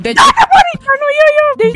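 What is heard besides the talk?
dog whimpering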